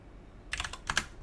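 Quiet typing on a computer keyboard: a short burst of several light key taps in two small clusters, close by, with no talking.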